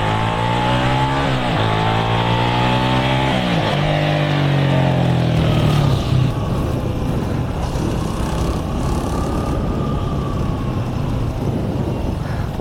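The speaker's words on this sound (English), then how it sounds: "Try to maybe give some acceleration sounds here." A 1987 Yamaha SRX 250 motorcycle accelerates past on a scenic road scattered with gravel and loose stones, its engine note climbing through the gears, loud and close, then easing off and fading into a steady rumble.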